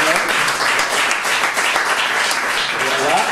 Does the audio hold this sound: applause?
yes